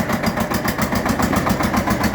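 A small single-cylinder Shifeng SF-350L tractor engine with belt drive chugs steadily at idle, its rapid, even thumping loud and close with no voices.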